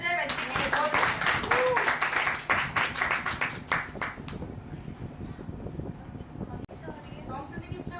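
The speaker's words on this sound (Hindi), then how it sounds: "तालियां बजाएं मैत्री के लिए।" An audience claps for Maitri at a student talent show, the brisk applause fading after about four seconds into a murmur of voices and room noise.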